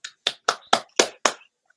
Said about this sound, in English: I'm applauding for the world